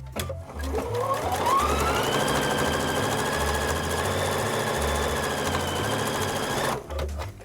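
A sewing machine runs continuously, stitching quilt block pieces for a triangle-in-a-square block, a steady close mechanical whir with rapid needle rhythm that starts and stops cleanly.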